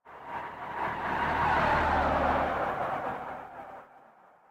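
Race car in BeamNG sliding off the track at Donington Park: a loud, sustained tire squeal and skid with engine roar that swells, holds for a few seconds, then drops away.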